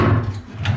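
A drawer in a home's bathroom vanity slides open or shut with a brief low rumbling scrape and soft knock, close by.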